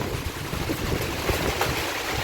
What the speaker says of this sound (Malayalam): നല്ലൊരു കാറ്റാ വരുന്നത്, വല്ല മരമൊക്കെ ഒടിഞ്ഞ് വീഴും.